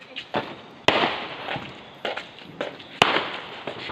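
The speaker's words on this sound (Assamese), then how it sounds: "পুৰা ফটকা ফুটাই আছে আৰু মানুহবিলাকে ভণ্টিয়ে বিৰাট ভয় খাইছে" Diwali firecrackers burst repeatedly at close range, sharp loud bangs at irregular intervals, each followed by a crackling, hissing tail.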